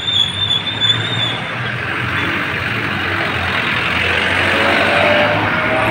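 Busy street traffic outside on a windy day, with a dense steady roar of passing and idling engines, a faint high whine early on, and no talk.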